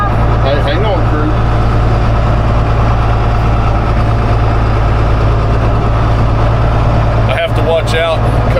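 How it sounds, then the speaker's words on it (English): A John Deere 4850 tractor engine idles while warming up, a steady deep diesel rumble that holds constant and loud, with people talking briefly over it near the start and end. "we'll let the tractor warm up a little, get the oil moving."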